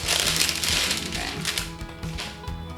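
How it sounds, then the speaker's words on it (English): A knife slices almond butter crisp treats into small bite-sized squares, giving quiet, rapid crunchy taps and crackles in close succession, close and soft. "I like to cut it into little tiny squares, so they're bite-sized pieces."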